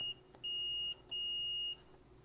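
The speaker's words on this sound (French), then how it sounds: "tout ce qui est partie métallique des shields et tout ça, sachez que ça va biper" A multimeter in continuity mode beeps as its probes touch metal shield parts, giving three steady high tones of uneven length with short gaps, clear over faint background noise.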